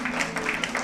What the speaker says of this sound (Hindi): जोरदार तालियां इन सभी कंटेस्टेंट्स के लिए